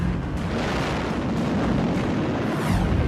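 A 250 kg aircraft bomb explodes over the aircraft carrier USS Enterprise in a World War II naval battle, a loud, sustained rumbling blast with roaring low-end debris noise filling the whole moment, no voices.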